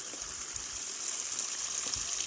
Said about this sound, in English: When I water these ones water the ones below.